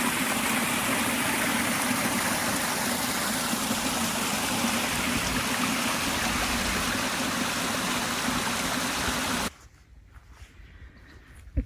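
A stream running down into lake Vättern in spring gives a steady, loud rushing of water for about nine seconds, then cuts abruptly to a quiet outdoor background.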